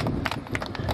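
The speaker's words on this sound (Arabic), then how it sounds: "محضر ومنظر هذا الحصان أمير الصحراء." Hooves of an Arabian horse clip-clop at a horse show in Kafr Kanna, a quick run of close, distinct hoof beats in an uneven rhythm.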